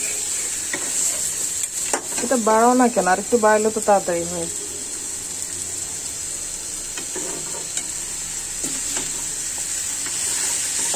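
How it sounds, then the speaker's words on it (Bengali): Beef frying in a pan for an Eid meat curry, a steady hissing sizzle running throughout with occasional stirring clicks, while a person talks briefly over it. "দেখুন আমার এই যে মাংসটা ভাজা হয়ে গেছে। এটা আরেকটু ভাজি"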